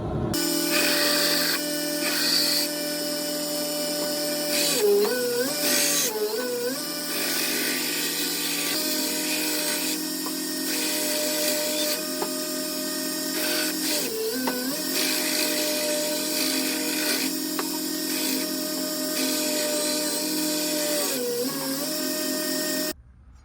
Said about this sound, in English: We're going to go clean it up on the grinder and see what we can get out of it